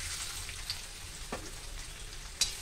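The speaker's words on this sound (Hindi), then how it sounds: "प्याज को फ्राई कर लेंगे अच्छे से" Finely chopped onion sizzles in already hot oil: a short, even hiss with a soft stir and one brief crackle near the end.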